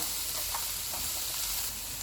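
Steady crackling sizzle of vegetables with chili, salt, black and white pepper frying in a hot pan for egg fried rice, continuous and close, with a few faint utensil clinks.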